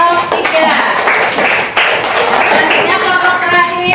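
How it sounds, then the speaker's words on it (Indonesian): Classroom applause for a student group, a dense run of hand claps and taps filling the room over a steady background of voices, loud and continuous with only a brief dip midway. "beri tepuk tangan untuk kelompok 3"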